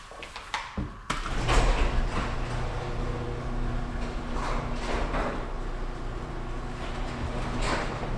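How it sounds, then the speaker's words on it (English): A residential garage door in Clovis, California opens with a sharp clunk, then a steady mechanical rumble and rattling as it travels along its track, moderately close and without talk. "Okay, garage door opens."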